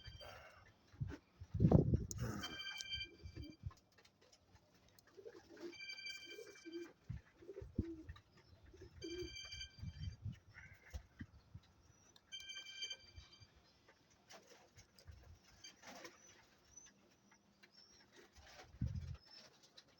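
Exotic KSO roller pigeons coo softly in a yard, the low calls repeating in a loose rhythm among faint rustling and distant ambient noise.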